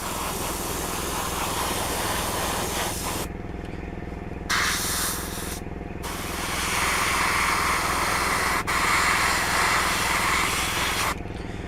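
An airbrush sprays paint onto a 1/12 scale Bandai Scout Trooper and Speeder Bike model kit, giving a steady close hiss under a compressor's rhythmic hum, then switches to plain air bursts for drying.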